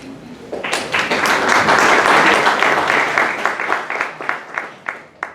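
At a student-movement forum in Chile, a seated audience welcomes the student leaders with a burst of applause that rises quickly, holds for a few seconds, then thins into scattered individual claps as it fades.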